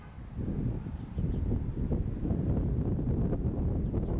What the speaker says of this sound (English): Boy, the wind picking up here now.